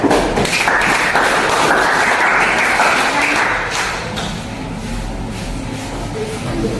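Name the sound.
applause for a group of students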